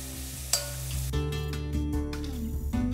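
Sliced okra sautéing in a pan with garlic and onion for a country chicken dish, a steady close sizzle with a clink near the start and scraping stirs throughout.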